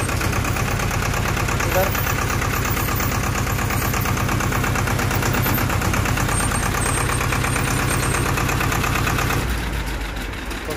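Inside the cab of a 2021 Swaraj 724FE 4WD tractor, the engine runs steadily at a loud, close, even idle-like throb, then drops in level near the end, with a brief spoken word over it.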